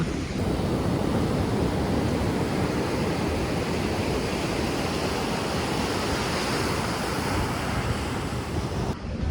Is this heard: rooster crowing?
no